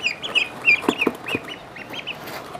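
Pet ducklings kept at home make a run of quick, high peeping calls in bursts, fairly close, with a few low scuffing knocks in between and no talking.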